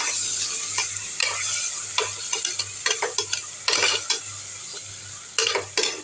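Biryani masala with lemon juice sautés in a pot, a steady sizzle cut by repeated sharp spoon scrapes and clinks against the metal, close and fairly loud, no speech.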